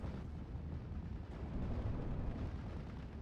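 Artillery barrage from pack howitzers in a World War II strategy game, a dense low rumble of distant overlapping blasts rolling continuously, no talking.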